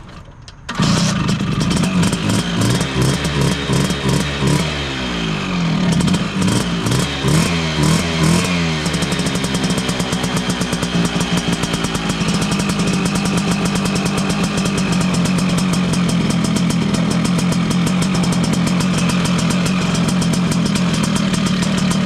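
A Vespa smallframe scooter engine starts and runs loud and close, revving up and down in uneven bursts for the first several seconds before settling into a steady, buzzing run through to the end.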